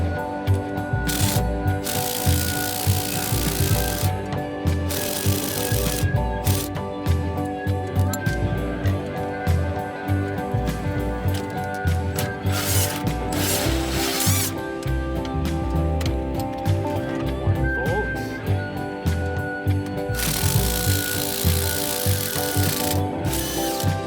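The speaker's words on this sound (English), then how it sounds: "Now we can take the air hammer to this again and hopefully pop this all out." Air hammer working on the front suspension parts of a Ford Pinto, a dense, continuous rapid rattling hammering that runs loud for the whole stretch with brief pauses and no talking.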